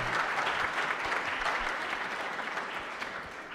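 An audience applauds a panel with steady, full clapping that holds strong and then eases slightly toward the end, with no speech over it.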